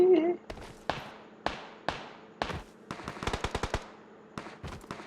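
Gunfire in the video game PUBG Mobile: a string of sharp shots, first spaced apart and then in a quick rapid burst, with a voice briefly heard at the start.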